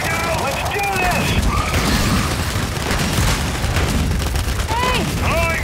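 Frag grenade explosions and gunfire boom through a dense, continuous Gears 5 Horde-mode firefight, with in-game character voices calling out over the constant battle noise.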